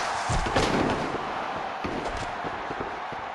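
Wrestler Preston Pierce is thrown onto the mat during a wrestling match, heavy thuds and slams landing over a constant roar of crowd noise.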